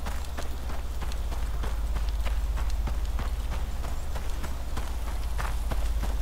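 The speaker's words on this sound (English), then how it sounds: "Oh, Terra Horse. Does it see me?" Terra horse hooves in the ICARUS survival video game clop steadily at a moderate, even pace, soft and somewhat distant over a low ambient hum.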